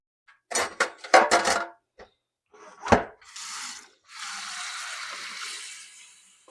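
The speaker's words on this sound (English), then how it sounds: "I'm going to quick rinse this out" Tie-dyed fabric rinsed under running water, with a few sharp clanks of handling at the start, then a steady rushing stream of water for a couple of seconds, close and fairly loud.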